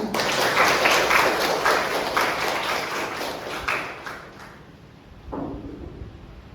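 An audience at a student debate for president and vice-president candidates applauds, with steady clapping that fades gradually before a short fresh burst near the end.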